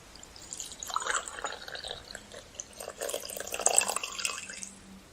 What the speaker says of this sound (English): I reckon I'll just pour myself a cup of coffee.